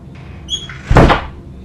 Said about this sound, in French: On vient carrément d'entendre des toquements et une petite porte se fermer